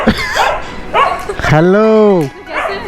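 Two dogs at a village house bark and whine close by, with a long drawn-out howling whine in the middle, while a person speaks over them.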